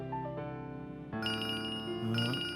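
A phone plays a melodic electronic ringtone in a Hindi TV serial, a bright repeating chime pattern at steady volume with no talk over it.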